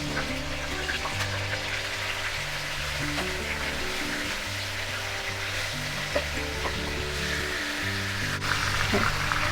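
Chicken pieces frying lightly in about a quarter cup of oil, a steady soft sizzle with occasional stirring clinks, close and fairly quiet.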